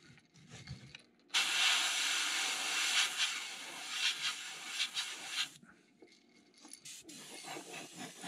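An airbrush sprays a steady hiss of air while painting crankbait lures in a clearwater craw pattern, one sustained burst running several seconds after a short pause, with quieter intermittent sprays afterward.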